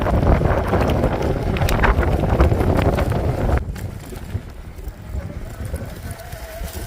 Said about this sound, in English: the wind's hitting me kind of hard right now